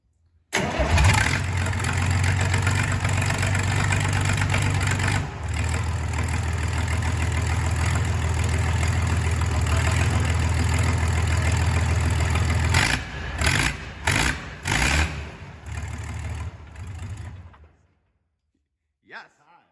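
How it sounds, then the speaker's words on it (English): The engine on a Bandit stump grinder starts and runs loud and steady nearby, then drops to an idle. Toward the end it is broken up by clunks and clicks before it cuts out and goes quiet. "Fire this motor."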